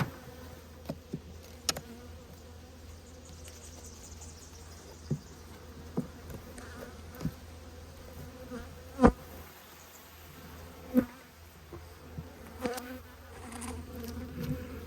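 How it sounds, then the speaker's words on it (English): Bees swarm and hum steadily around an opened hive during a late-winter inspection, a continuous buzzing drone broken by occasional sharp clicks and knocks of frames, with no voices. "Good amount of bees on there."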